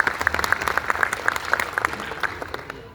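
Audience applause at a Rajasthani community poetry recital in Navi Mumbai, with claps falling into a steady rhythmic beat as the crowd claps along, moderately loud and continuous throughout.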